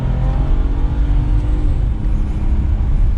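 Close, continuous engine roar from inside a 2021 Lincoln Nautilus Reserve SUV with a twin-turbo 2.7 liter, pulling hard under acceleration with a smooth whir and a shift in pitch as it downshifts.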